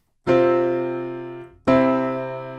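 Two sustained piano chords, the first ringing with tension and fading before a second, more settled chord resolves it, each left to decay.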